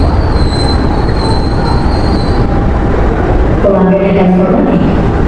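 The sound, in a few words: train arriving at station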